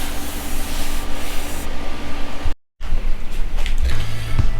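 A cutting board is fed through a thickness planer on a planing sled. A loud, steady broadband roar cuts out briefly partway through, then resumes.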